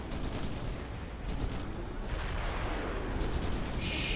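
Mobile missile launchers fire in a Supreme Commander battle on the Setons map, heard as a continuous, dense roar of launches and distant impacts with no clear gaps and no voices.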